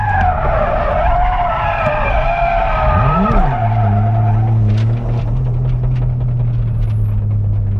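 A car slides through a handbrake turn on a downhill touge course at Ebisu Circuit. The loud tire skid is heard alongside a rising, then steady engine drone, close and alone.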